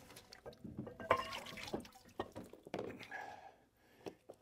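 A rusty weight lowered back into an oxalic acid bath gives quiet liquid sloshes, drips and a soft thunk against the container, close by, with scattered small handling noises.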